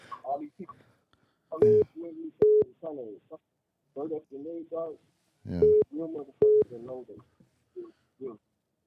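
Short electronic telephone ringing tones sound in paired beeps, twice, between bursts of a man's close, lively talk on a live podcast.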